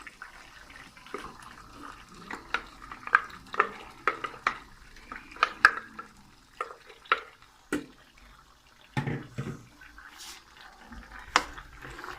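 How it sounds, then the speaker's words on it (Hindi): Onion paste sizzles in a pot for chicken Madrasi handi, with repeated scraping and stirring clicks at an irregular pace over a low, steady frying hiss, close by and with no talking. "उसके साथ ही डालते हैं ये प्याज का भी पेस्ट बनाया है"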